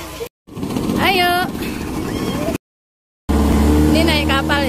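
A boat runs at Siuri beach in Tentena, its engine drone and wind rumble steady underneath, with people's voices and cheering over it and brief dropouts in the recording.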